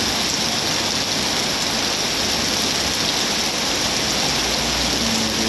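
Heavy afternoon rain pours down in a dense, steady hiss, loud and unbroken throughout with no voices.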